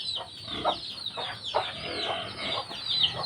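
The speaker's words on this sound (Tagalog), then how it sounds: "so merong pito tayo na bagong sisiw" A hen clucks among a brood of seven newly hatched chicks, whose shrill, rapid peeping runs continuously up close, broken by softer low clucks from the mother hen.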